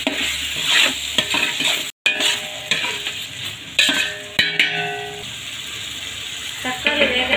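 A spoon stirring tomatoes with salt in a hot pan, with scraping strokes and a light sizzle close up, continuing with brief pauses throughout.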